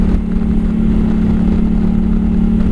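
A motorcycle engine drones steadily while riding with a Kaoko throttle lock holding the throttle, a loud, constant low hum with wind rush and no change in pace.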